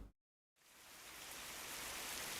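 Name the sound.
rain in a video game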